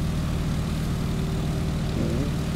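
A propeller airplane in the game Microsoft Flight drones steadily on its approach to touch down, a loud continuous low engine hum heard alone.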